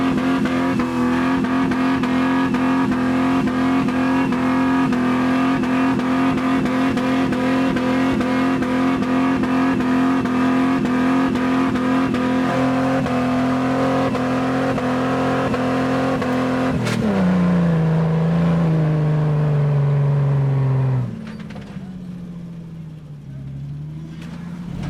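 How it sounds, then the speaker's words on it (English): An off-road rig on wet trails in Cripple Creek, West Virginia, held at the rev limiter with tires spinning. A loud, sustained bouncing engine drone bogs and drops in pitch near the end, with voices talking over it. "typical rev limiter, tire spinning, trying every line, drop it in third"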